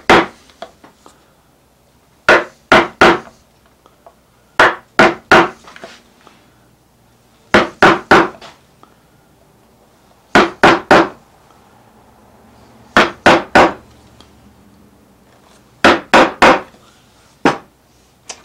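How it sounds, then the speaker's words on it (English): A narrow, deeply curved gouge nips into wood while carving a rosette, giving groups of two or three sharp, close tapping cuts repeated at regular intervals against quiet pauses. "take that really narrow deeply curved gouge and nip these off"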